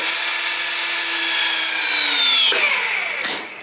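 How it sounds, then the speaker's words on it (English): A powered press tool crimping clamps onto plumbing fittings for an outdoor hose bib, a loud steady motor whine that slowly drops in pitch, then a sharp click as the press finishes. "we'll put a clamp there and a clamp there. Gonna press it."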